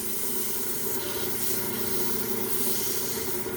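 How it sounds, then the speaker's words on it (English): Steady, dense abrasive hiss of a flexible rubber sanding sleeve against a workpiece spinning on a lathe, continuous and close, with no pauses. "these rubbery sanding sleeves that you can get at your big box stores"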